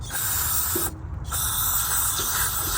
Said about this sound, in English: give it another spray down